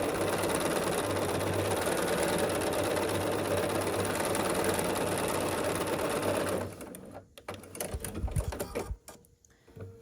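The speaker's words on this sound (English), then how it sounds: "So you just match the two edges up and then sew down this length." Sewing machine stitching a quilt block seam, a fast steady mechanical whir for about six and a half seconds, then it stops and leaves scattered handling clicks and rustles.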